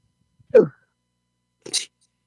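A single close sneeze breaks the quiet in two quick bursts: a voiced intake followed by a sharp, hissy release.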